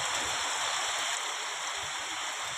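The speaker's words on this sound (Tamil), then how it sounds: "இங்கே பாருங்கள் எப்படி மழை பெய்யுதுன்னு" Heavy rain from a thunderstorm pours steadily over a farm garden where goats and cattle are kept, producing a dense, continuous hiss that is loud and close, with no talking.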